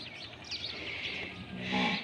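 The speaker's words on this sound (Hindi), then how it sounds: "ये कौवे भी आ गए हैं सुबह सुबह" Crows caw on a misty morning around a rural farmyard where buffalo dung cakes are stacked, a few harsh calls rising near the end over a soft background wash.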